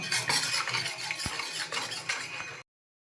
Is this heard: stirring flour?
yes